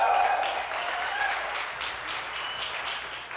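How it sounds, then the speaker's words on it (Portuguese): An audience at a Portuguese-language church gathering applauds Christian, a steady, moderately loud wash of clapping with a brief tonal sound near the start. "Pode aplaudir o Christian aí."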